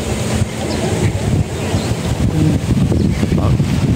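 Steady wind buffets the microphone with a low, continuous rumble, while ocean surf washes in the background.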